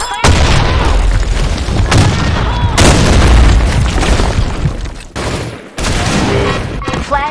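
A grenade blast and heavy gunfire in the online shooter Blackshot, loud and close: a booming explosion followed by dense rapid shots that keep rolling, with a brief drop before firing resumes.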